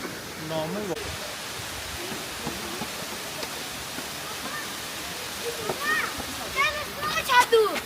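Waterfall at Taktsang in Paro, Bhutan, a steady broadband rush of falling water heard beneath intermittent talking voices.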